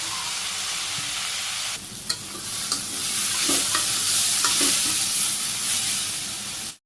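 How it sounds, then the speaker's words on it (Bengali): Papaya and green chilies stir-fried with salt, turmeric and dried chili powder in a pan: loud, close sizzling that swells as the mixture is stirred, with scattered light knocks of the spoon. "নাড়াচাড়া করে ভাজি করে নিই।"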